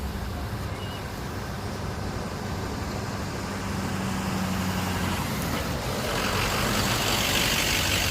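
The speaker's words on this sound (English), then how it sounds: "We got so much traffic over here." Road traffic passes nearby as a dense, continuous roar of tires and engines, with a truck-like rumble that swells gradually louder toward the end.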